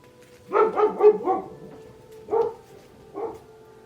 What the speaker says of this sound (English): They have a lot to say today. Those dogs do.